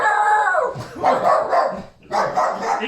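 A dog at home goes wild with a run of close, loud, excited barks and yelping howls in quick succession, broken by a brief pause before another burst.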